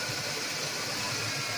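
A 1996 Ford Ranger engine with a number two cylinder misfire idles a little high, giving a steady, droning rumble with a faint uneven pulse.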